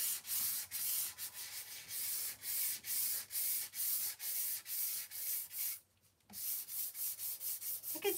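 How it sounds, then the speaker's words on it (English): Sandpaper worked lightly by hand over a painted MDF sign, a close, regular back-and-forth rasp of about a dozen strokes with one short pause, no speech. "sandpaper and it's going to make my sign nice and smooth"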